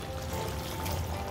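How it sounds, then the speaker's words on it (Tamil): Water is poured into a pan of homemade chicken masala with large chicken pieces, a short steady pouring trickle close by over faint kitchen background. "ஸோ அதுக்குள்ள கொஞ்சம் தண்ணி போடுவோம்"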